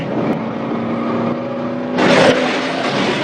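A red pickup truck's engine roars steadily during a police chase, then surges into a louder, harsher rev about two-thirds of the way through before settling back.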